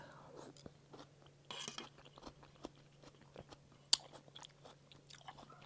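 Quiet, close crunching and chewing of food, with soft irregular bites and one sharp crack partway through, over a low steady hum.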